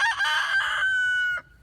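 A single rooster crows nearby, a loud, bright call lasting just over a second before cutting off.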